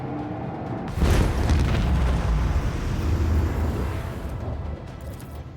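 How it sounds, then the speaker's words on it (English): Torpedoes launch in the Warhammer 40K Rogue Trader video game with a sudden deep boom, then a long, loud rumbling roar that fades slowly over several seconds, with no talking. "I'll use the torpedoes here."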